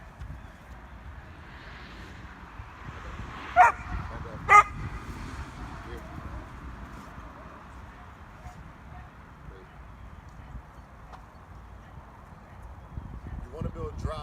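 Dog barking during working dog training, two sharp barks close together a few seconds in, then scattered smaller yips over background noise while people talk.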